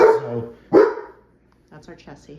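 A dog barks twice in loud, close bursts, each with a trailing growly tail, followed by a short pause and someone talking briefly at the end.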